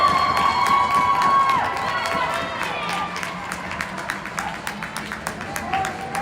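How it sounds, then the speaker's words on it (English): Spectators cheer and shout after a goal at a peewee hockey game, a steady crowd roar with some clapping and children's voices, slowly easing off. "And the crowd goes wild."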